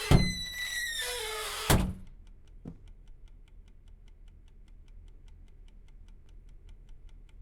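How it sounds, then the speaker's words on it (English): Two heavy thunks of locomotive cab doors closing on a Class 750 diesel in Czechia in Train Sim World 6, the first with a ringing metallic tail, followed by a soft knock and a quiet steady ticking over low cab hum. "Now, close the doors and sit in driver's seat."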